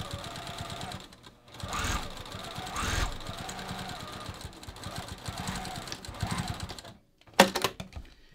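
Sewing machine stitching straight lines to form pockets on a fabric hiking belt, running in several steady bursts with short pauses between, close and moderately loud, with a brief sharp clatter near the end.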